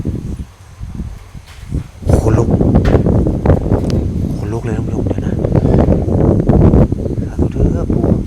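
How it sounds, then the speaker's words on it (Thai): Strong wind gusts loudly around a shrine at night, roaring as sustained buffeting across the microphone and growing heavier after the first couple of seconds, with a voice faintly mixed in. "เมื่อกี้ลมไม่ได้แรงขนาดนี้นะผู้ชม"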